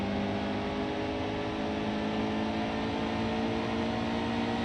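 Stock car engines in NASCAR Heat 2 during an Xfinity Series race at Iowa, a continuous loud droning whine held at steady pitch as the cars run at constant speed, with no talking.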